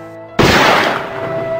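A single loud rifle gunshot bursts in abruptly after a quiet moment, followed by a long, booming echo and rumble that slowly fades.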